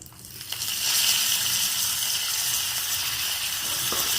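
Asafoetida, dried red chillies, mustard seeds, urad dal and chana dal crackle in hot oil, tempering banana flower chutney. A steady, loud, close sizzle with fine hissing runs throughout, with no talking.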